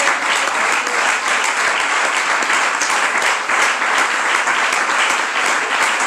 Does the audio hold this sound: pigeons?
no